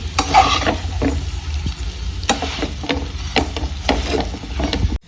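Wheat flour vermicelli roasting in a pan while being stirred, with soft sizzling and a series of scraping strokes at irregular intervals, close and fairly loud, ending abruptly.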